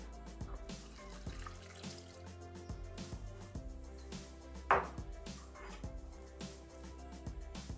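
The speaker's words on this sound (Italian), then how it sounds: "Aggiungere l'acqua." Water trickles and splashes faintly as it is poured into a Thermomix bowl holding rolled involtini resting on the blades, a quiet, continuous liquid sound with a few louder drips.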